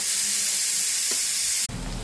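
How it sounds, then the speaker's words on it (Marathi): Onion sizzling in hot oil in a wok for mutton, a steady bright frying hiss that holds loud and even, ending in a sharp louder burst as more goes into the pan. "आपण कढईमध्ये तेल टाकले, त्याच्यामध्ये कांदा टाकून घेऊ।"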